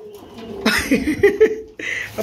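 Low, soft coos of Danish pigeons repeat over close rustling and flapping sounds, with a short pause before the noise picks up again.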